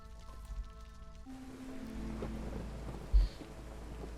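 Storm ambience from the video game Against the Storm: steady rain with low thunder rumble, a brief musical tone at the start, then a sharp close thump near the end, all fairly quiet.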